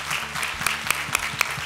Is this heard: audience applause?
yes